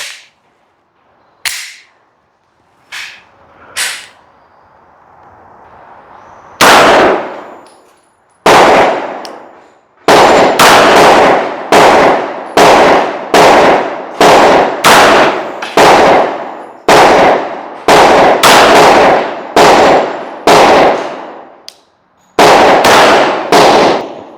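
Glock 49 Gen 5 MOS pistol fired at an outdoor range: sharp, loud, close gunshots, a few spaced shots early, then a steady string of evenly paced rounds with brief pauses.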